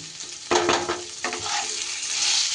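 Onions and raw mango pieces fry with salt in a pan, a close, crackling sizzle broken by a few bursts of stirring and spatula scrapes.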